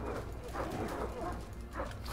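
Dire wolves fight a saber cat in the Ark video game, with yelping, whimpering and snarling creature sounds. The growls rise and fall in rough bursts over a busy, muffled game background.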